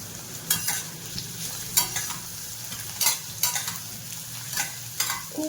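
Bell pepper and broccoli sauté in a pan with a soft continuous sizzle, while a utensil stirs and scrapes with repeated sharp clinks every second or so.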